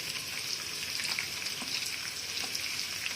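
Onions and green chillies frying in a pan for a potato capsicum curry give a steady, dense sizzle, close and even throughout, with faint stirring scrapes and no talking.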